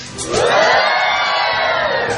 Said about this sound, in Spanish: los gritos que escuchó usted, son precisamente de los alumnos de las carreras de Medicina y de Nutrición